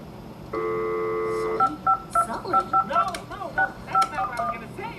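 A long steady telephone tone, then a quick run of short dialing beeps pressed one after another, fairly close.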